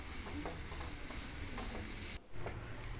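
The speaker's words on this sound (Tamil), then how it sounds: "தேங்காய் இப்போ நல்லா வறுப்பட்டுடுச்சு" Grated coconut dry-roasting in a pan for Chettinad brinjal curry, a steady bright sizzling hiss with light stirring taps, briefly cut off near the end before resuming.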